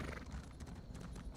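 Horse hooves clip-clop in a steady, brisk rhythm while riding in Elder Scrolls Online, close and fairly loud, with no voices over it.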